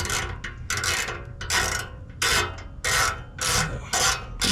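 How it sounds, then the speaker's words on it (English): Rear bolts of a MillerCat CAT V2 catalytic converter shield tightened with a tamper-proof tool under a second-generation Toyota Prius, a loud, close series of rasping ratchet strokes in regular bursts of about half a second, heard without talk. "Now we're gonna start tightening up these rear bolts."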